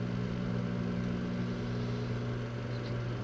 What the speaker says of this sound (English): I put my tortillas and Canadian bacon in the microwave for 30 seconds